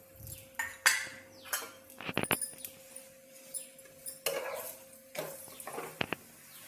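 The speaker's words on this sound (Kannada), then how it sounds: "ಈಗ ಇನ್ನೊಂದು ಕಡೆ ಟರ್ನ್ ಮಾಡಿದ್ಮೇಲೆ ಸ್ವಲ್ಪ ಎಣ್ಣೆ ಸೇರಿಸ್ಕೊಳ್ತೀನಿ ಮೇಲ್ಗಡೆಯಿಂದ." A drumstick-leaf paratha fries in oil in a flat pan, with a low sizzle beneath it. A spatula clinks and scrapes in sharp, irregular knocks as the flatbread is turned.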